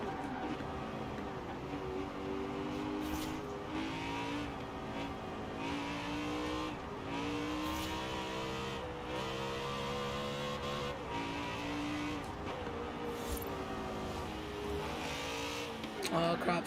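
A Lexus engine in Forza Horizon 4 revs and shifts through gears in repeated rising and falling surges, fairly faint, with some tire noise underneath.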